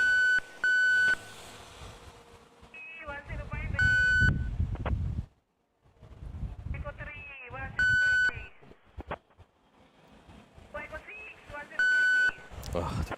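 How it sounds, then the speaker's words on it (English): Sharp electronic beeps sound in short bursts at intervals at Manila Airport, with people talking and shuffling noises in between. "Oh, the beeping sound."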